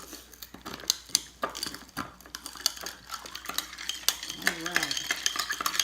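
A spoon stirs Kapampangan sisig in a pan, scraping and clinking against the metal with soft sizzling beneath, close and steady. One brief word is spoken near the end.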